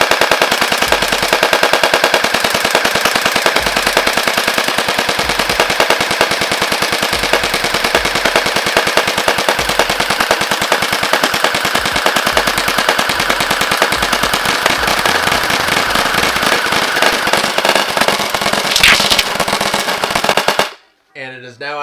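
A Faction Havoc toy blaster fires on full auto at night in one dense, rapid, continuous burst that lasts about twenty seconds and then cuts off abruptly.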